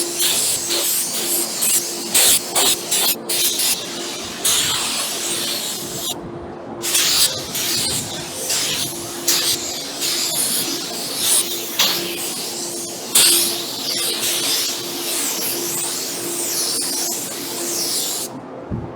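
A spray gun lays a final coat of paint on a car panel outdoors, giving long bursts of close, loud airy hissing broken by short pauses between passes.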